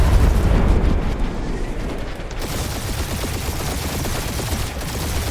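In the Guardians of the Galaxy video game, loud explosions boom up close at the start, then give way to a dense, rapid crackle of bursts and blasts that continues throughout.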